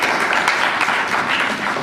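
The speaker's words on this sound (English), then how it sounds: "Let's give him a standing applause." Steady, dense applause from a convention panel audience at C2E2, a broad continuous wash of clapping with no talk over it, filling the room evenly.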